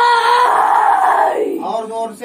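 A man's loud, sustained scream, harsh and close, holding steady for more than a second before breaking off, with a brief vocal sound after it.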